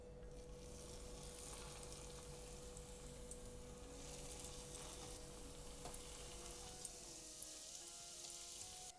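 Fish cakes frying gently in a pan over reduced heat, a soft, even, continuous sizzle and crackle with a faint steady hum underneath, quiet and unbroken.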